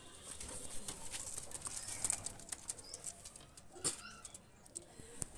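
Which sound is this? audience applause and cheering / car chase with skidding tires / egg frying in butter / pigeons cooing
pigeons cooing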